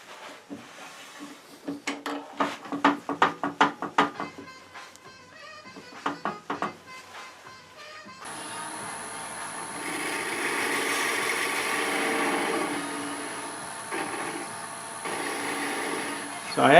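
A 1/4 inch drill bit bores through a spinning piece of wood on a lathe for a miniature birdhouse, giving a steady mechanical whir and grind that follows a stretch of rhythmic tapping and knocking.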